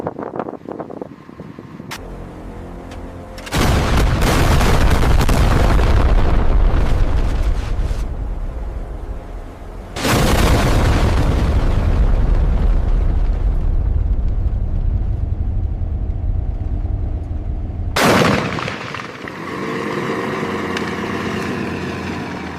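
Three thunderous roaring bursts of HIMARS rockets launching during a RIMPAC live-fire drill, each a sudden blast that settles into a long rumbling rush, with engine idle between.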